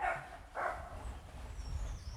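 A dog gives two short barks a moment apart, moderately close, then only a low background rumble remains with no speech.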